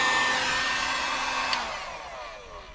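A heat gun, or a hair dryer used in its place, blows steadily and close while building a portable RV boondock water pump kit, a continuous airy roar that tapers off slightly near the end with no talking.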